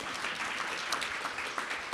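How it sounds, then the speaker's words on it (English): Brief audience clapping at a climate action panel, steady and moderately distant, continuing evenly for a couple of seconds. "we can clap for that"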